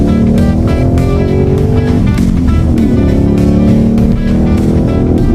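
Car exhaust with a Mad Motorsport valve controller holding the valves fully open, a loud, close, continuous engine drone with a deep rumbling tone that wavers slightly in pitch, no talking.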